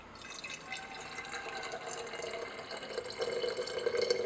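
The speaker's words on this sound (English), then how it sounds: "Let's get the water into the reaction flask." Warm water at 40 degrees trickles and pours into a laboratory reaction flask, a soft irregular splashing that grows fuller and louder near the end, heard close with no talk.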